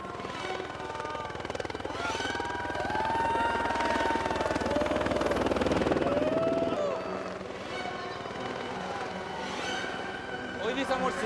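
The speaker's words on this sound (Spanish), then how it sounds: "Y de repente sale de la nada un helicóptero." A helicopter suddenly appears over a hillside, its steady rotor and engine roar loud and continuous throughout, with voices mixed in beneath the noise.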